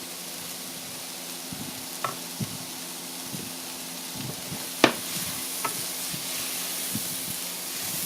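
Paprika sizzles in oil in a frying pan while being stirred with a utensil, a steady frying hiss under scattered scraping knocks and one sharper clink, with no talk.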